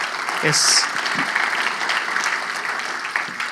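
A church congregation claps in praise during a Spanish-language service, a sustained wash of hand claps from many people with some voices and shouts mixed in.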